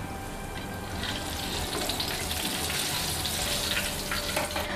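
Battered eggplant frying in hot oil, a loud, dense, continuous sizzle and crackle heard up close without talk.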